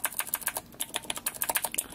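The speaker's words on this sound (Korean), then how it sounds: "저는 원래 타닥타닥 하는 요런 기계음을 좋아하기 때문에" Clicky mechanical keyboard switches clatter in rapid, uneven bursts of keystrokes, close up and alone, with no voices.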